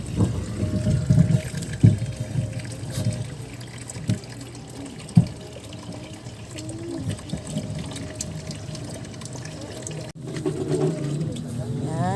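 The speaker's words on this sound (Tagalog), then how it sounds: "Balawan mo muna dyan, tapos doon na sa gripo." Tap water runs steadily while a child rinses dinner plates at a kitchen sink, a continuous splashing flow with occasional clinks of dishes, and an adult speaks over it now and then.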